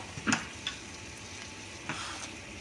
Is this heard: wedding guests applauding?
no